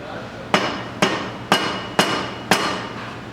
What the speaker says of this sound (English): don't worry, it's a plastic hammer